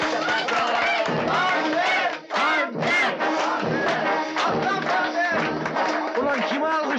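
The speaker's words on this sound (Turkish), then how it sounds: "Ulan kime alkışlıyor bunlar ya?" A crowd in an old Turkish comedy film cheers and shouts loudly, a dense, continuous swell of many voices close by with a brief dip in the middle.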